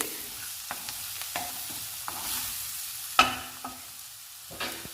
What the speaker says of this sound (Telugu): అల్లం వెల్లుల్లి పేస్టు అన్నీ ఫ్రై అయ్యాయండి